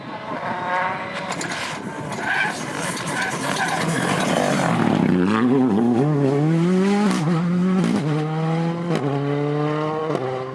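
A Ford Fiesta Rally 2 rally car on a Welsh rally stage at Rali Ceredigion, loud engine rising and falling through revving surges and gear changes as it approaches and passes close, with no talk.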